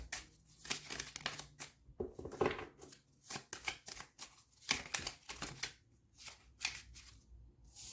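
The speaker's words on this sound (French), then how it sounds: "Nous allons prendre quelques petites cartes supplémentaires ici." Oracle cards being drawn and shuffled from a deck, a close series of quick papery riffles, slaps and flicks in irregular bursts with short pauses.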